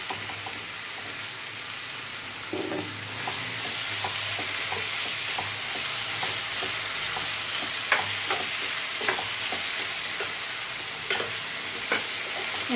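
Squid roast with two large tomatoes frying in a pan: steady loud sizzle with scattered clicks and scrapes of a spoon stirring at irregular intervals, close and continuous throughout, no talking.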